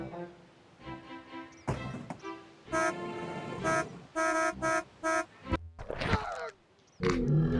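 Car horn in the Jurassic Park Sega CD game, a series of short, loud, bright honks in an uneven rhythm, several sounding in quick succession amid other game sounds.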